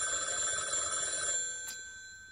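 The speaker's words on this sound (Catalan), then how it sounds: "Ja està sonant aquest maleït telèfon." A telephone bell rings loudly and steadily at close range during a stage performance, then stops abruptly, with a faint tail afterward.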